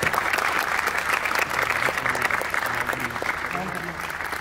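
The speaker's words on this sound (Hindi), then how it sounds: "तो आप सबकी भरपूर तालियों में" Sustained audience applause welcoming a speaker onto the stage at a Capital Smart City development update event, dense steady clapping filling the hall with some voices underneath.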